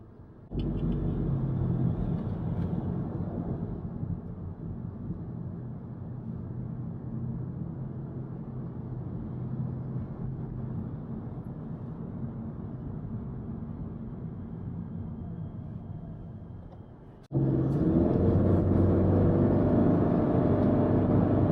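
Steady low road rumble and engine hum from inside a car moving through dusk traffic, continuous and moderately loud, rising abruptly into a heavier, louder roar near the end with no talking.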